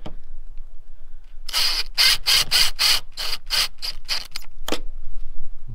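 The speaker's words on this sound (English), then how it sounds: "Drill, put a screw in, drill, put a screw in" A run of short mechanical bursts, about ten in a row with brief gaps, a power drill driving screws in quick pulses into a VW T5 van, close and fairly loud.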